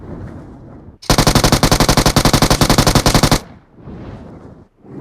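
In the PUBG Mobile video game, a sustained burst of rapid automatic gunfire rattles loudly for about two seconds, set between stretches of quieter game ambience.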